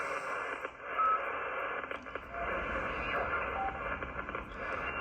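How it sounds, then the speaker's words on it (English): Electrical interference picked up on a Ten-Tec Omni 6 amateur radio receiver: a steady, broadband buzzing static hiss that runs continuously and fairly loudly throughout, with slight fluctuations. "I got some interference coming in. You can hear it. Some electrical stuff."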